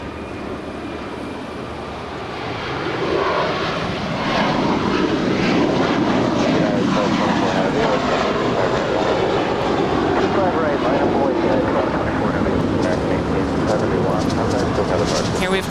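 An eight-year-old American Airlines A321 jet at Los Angeles International Airport, its engine roar swelling from a low rumble into a loud, sustained broadband drone that holds steady, with voices talking faintly over it.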